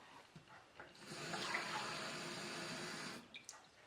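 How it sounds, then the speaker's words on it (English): Cold water runs from a tap into a glass cup, a soft steady pour rising after a second and stopping abruptly near the end, with faint clinks around it. "So I'm going to fill this cup with some cold water,"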